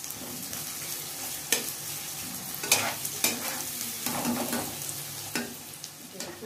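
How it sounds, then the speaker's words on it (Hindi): Onions frying with potatoes in a pan for egg curry, a close steady sizzle broken by several sharp scrapes and clatters of stirring, no talk. "और प्याज को इन आलू के साथ ही थोड़ा भून लेंगे"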